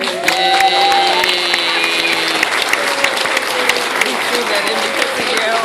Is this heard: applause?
yes